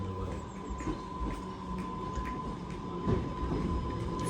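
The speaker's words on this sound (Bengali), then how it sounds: "আমাদের ট্রেন চলে আসছে।" An Island Line train on the Isle of Wight arrives at a station with a low rolling rumble, a steady high tone and faint wheel and track noise, moderately distant and quiet.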